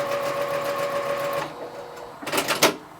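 A sewing machine stitches a quarter-inch seam through two layers of fabric for a quilt block, its steady motor hum running for about a second and a half before a brief burst of rapid needle clatter near the end.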